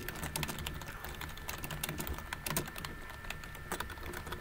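Notes being typed on a computer keyboard: quick, irregular clicking keystrokes in short bursts over a low steady hum, close by and with no voice.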